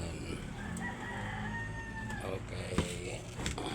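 A rooster crows once at a distance, a drawn-out cock-a-doodle-doo rising and falling over a steady background hum, with a few clunks nearby.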